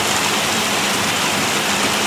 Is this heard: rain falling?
yes